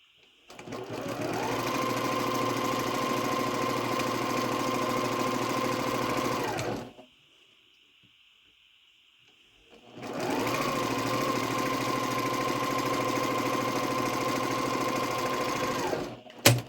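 A sewing machine stitches quilt pieces for a Halloween crow quilt, running in two long steady bursts of rapid stitching separated by a few seconds of quiet while the fabric is turned.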